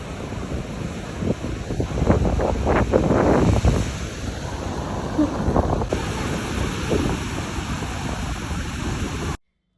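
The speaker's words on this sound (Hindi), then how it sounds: "ये समुंदर की लहरें दिखने में जितनी खूबसूरत लगती हैं उतनी ही खतरनाक भी होती हैं" Sea waves wash up on the beach at Puri, Odisha, a steady surging roar with breaking surf swelling in the first seconds, mixed with heavy wind buffeting the microphone throughout.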